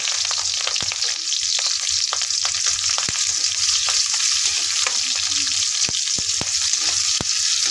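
Onion, garlic and green chilli sauté in hot oil in a pan, a steady close sizzle throughout, punctuated by sharp clicks of a utensil stirring against the metal.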